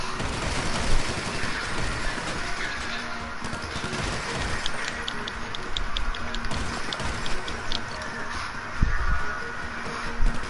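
Rifle gunfire in a video game, dense crackling volleys of shots mixed with chaotic combat noise, steady and busy throughout with a few louder impacts.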